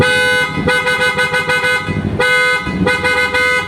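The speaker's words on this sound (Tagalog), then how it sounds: "sound check natin yung horn, PIE auto style" Loud blasts from a PIE Auto style car horn, two long honks separated by a short gap, harsh and close with no talking.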